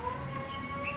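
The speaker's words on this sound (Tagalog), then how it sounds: "Maingay yung loro sa baba." A noisy parrot calls from somewhere below, its chirps and squawks coming through as a steady, moderately faint bird chatter with no talking.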